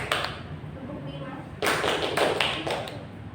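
Groups of people clap hands together in a counting clap game during a classroom micro-teaching session, several sharp bursts of close clapping following quieter taps, with a voice talking over them.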